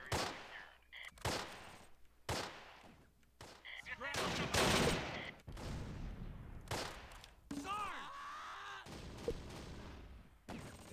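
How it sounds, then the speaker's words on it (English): Mortar rounds land in the wartime strategy game Close Combat, a string of sharp, loud bursts with ringing tails spread across the clip, mixed with other battlefield firing and a voice talking between hits. "Damn, you've had some very accurate mortar fire."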